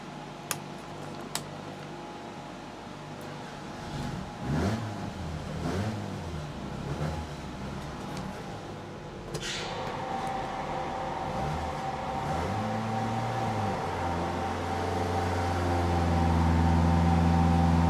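Ford crossflow engine revving on a run, a steady mid-pitched drone with wavering rises that climbs into a louder sustained full-throttle roar toward the end, heard close.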